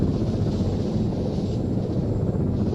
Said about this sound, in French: on a spoté un hélico